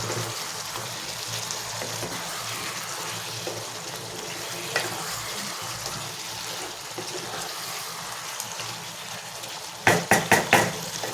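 Hot water poured into a pan of mutton curry with potato and pointed gourd brings a steady bubbling, hissing simmer, followed near the end by a quick series of sharp knocks of a utensil against the pan.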